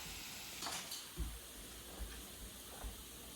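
Mushrooms frying in butter in a pan give a soft, steady sizzle with faint hiss and a few light stirring knocks, close and quiet with no voices.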